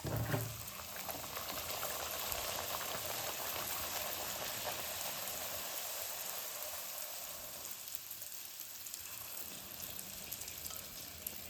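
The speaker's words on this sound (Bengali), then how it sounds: "এবার লুচিগুলো আমি ভেজে নিচ্ছি।" Luchi, puffy fried flatbread, frying in hot oil makes a dense, continuous bubbling sizzle, close and fairly loud, with a brief splash at the start and no talking.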